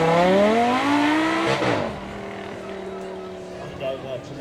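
Lamborghini V10 revving high at a supercar weekend demo run, its engine note falling sharply as it comes off the throttle with light popping while braking hard, close and loud at first, then settling to a lower drone.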